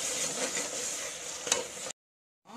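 Ginger-garlic masala sizzles and is stirred in a pan while mutton kulambu is cooked, a steady crackling fry with a brief scrape near the end before a short silence.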